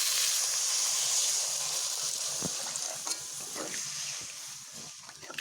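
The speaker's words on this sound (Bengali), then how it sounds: "এখানে এবার আমি জল দিয়ে নিচ্ছি।" Water poured into a pan of frying mola fish sets off a loud, steady hiss of sizzle and steam that lasts throughout and eases slightly toward the end, with a few faint stirring taps.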